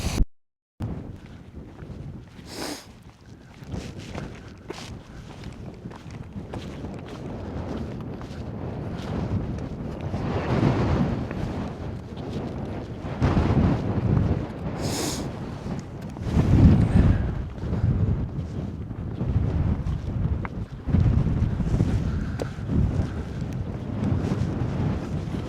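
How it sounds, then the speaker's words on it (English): Steady wind buffets the microphone near Allen Crags in Borrowdale, producing a continuous low rumbling roar with gusty swells throughout, with no one speaking. "It's a bit windy now, but it is what it is."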